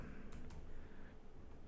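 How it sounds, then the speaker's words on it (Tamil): Typing on a computer keyboard during a stock fundamental analysis lesson, a short run of soft, steady key taps over a constant background hum. "டிசிஎஸ்ன்னு டைப் பண்ணாலே போதும், வந்துடும்."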